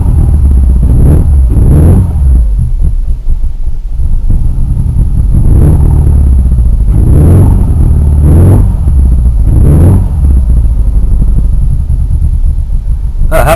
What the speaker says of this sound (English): If I gun the throttle hard quick